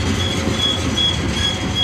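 A BNSF freight train rolls past close by with graffiti-covered cars, a loud continuous rumble of wheels on rail with faint clacking and a thin high squeal running through, and no one talking.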